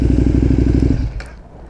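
A KTM 1290 Super Duke R motorcycle engine idles loudly up close with a steady throbbing rumble, then cuts off abruptly, leaving a faint click and quiet tail.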